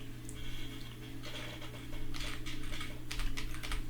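Typing on a computer keyboard, quick faint bursts of clicking keys close by, with no talking.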